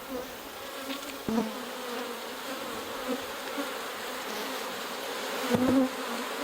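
Honey bees hum steadily inside an opened hive holding honey and brood comb, a low continuous drone at moderate level with a couple of brief louder knocks or rustles from handling.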